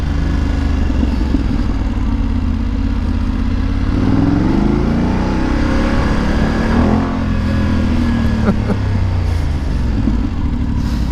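A loud BMW F850GS motorcycle engine rumbles close by, idling and revving with rising and falling pitch, its throaty growl steady throughout.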